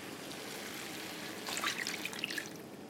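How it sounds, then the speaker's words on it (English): Water trickles and splashes into a pot of pork white bean chili with diced tomatoes, a soft, brief pour that rises for about a second over quiet room noise. "And then we're gonna add water."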